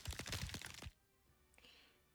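Bullets striking an ice barrier in a Nikke video game cutscene, a quick cluster of loud cracking impacts that ends abruptly, followed by near quiet with one faint later crack.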